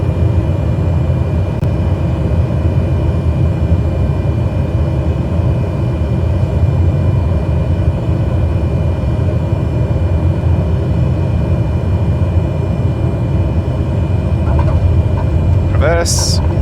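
Steady loud engine drone of a light propeller aircraft landing on a runway in a flight simulator, a continuous roar across the whole stretch with a brief higher whine near the end.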